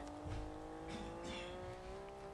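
Honda NSX accelerating away, a rising engine tone with a steady whine and rumbling low end, close and fairly loud, with some tire noise underneath.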